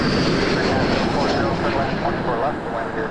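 An airplane engine at Toronto Pearson Airport at night makes a steady, loud roar that fades slightly toward the end, with faint radio-like voice traces underneath.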